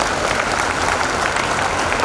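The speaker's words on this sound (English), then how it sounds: "Now I'll request all the parents who are sitting here and the well-wishers to clap for them" Parents and well-wishers at a medical college graduation ceremony clap for the new graduates, loud and dense applause from a large crowd filling the hall at an even level throughout.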